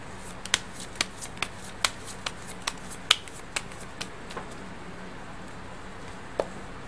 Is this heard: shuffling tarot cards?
yes